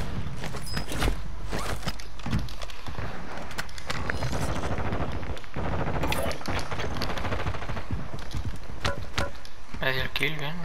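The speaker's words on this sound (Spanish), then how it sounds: "¡Me disparan!" Rapid automatic gunfire in Warzone rattles almost nonstop, loud and close, with several separate bursts and voices talking over the shooting.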